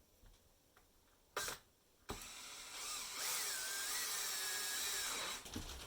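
A power drill fitted with a 1/2 inch bit starts with a short burst, then runs into a sustained loud whirring drill-through with the pitch bending as it bites. A few faint clicks come before it.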